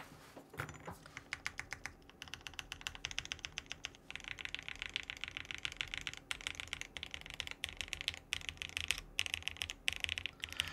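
Rapid typing on a Space 80 Apollo mechanical keyboard with tape mod gives dense, crisp clacking keystrokes in fast bursts with short pauses, close and fairly quiet, with no voices.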